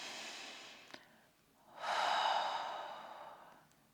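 A single slow, deep breath drawn in and let out, a brief intake near the start followed by a long, broad exhale that swells and fades, close and alone with no talking.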